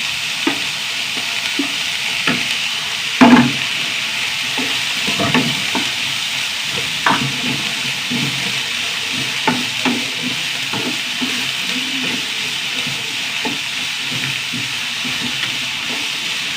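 Sliced onion sautéing in a pan with green chili and a little ginger, a steady sizzle with occasional stirring clacks and scrapes of a utensil, close and fairly loud, no voices.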